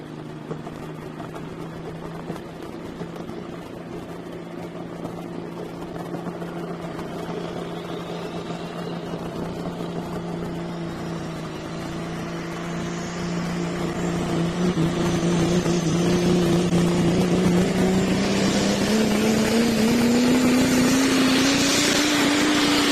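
A super stock diesel pulling truck at a pulling event revs hard and loud, its steady engine drone climbing steeply in pitch over the final seconds as the RPMs build, with no talk.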